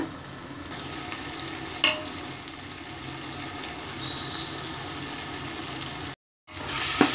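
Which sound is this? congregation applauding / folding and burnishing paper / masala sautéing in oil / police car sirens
masala sautéing in oil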